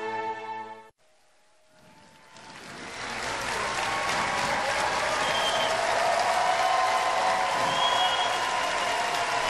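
Large crowd at an indoor robotics competition's opening ceremony in Constitution Hall bursts into sustained, loud applause and cheering as a team enters, building after a brief quiet moment and holding steady.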